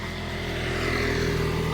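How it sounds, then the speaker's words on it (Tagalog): A motorcycle engine drones steadily nearby in an outdoor setting, a continuous rumble that swells slightly as it passes. "Op, may motor ah."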